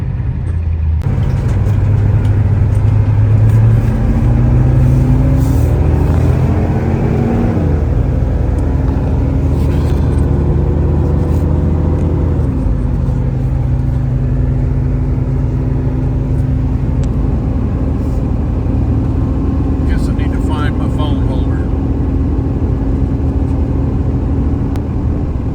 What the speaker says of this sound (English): So we're gonna get out of the driveway here and excuse me, we'll go for a little drive down the road.